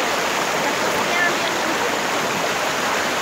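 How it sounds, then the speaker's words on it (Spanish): A river flows in a steady, dense rush of water, close and continuous without breaks, with no talk over it. "Y el río está bien bonito, como lo pueden observar aquí"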